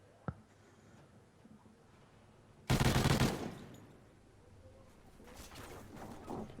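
Gunfire in a competitive first-person shooter match, a short loud burst of shots after a quiet stretch, followed by fainter game sounds, with a commentator's voice faintly beneath.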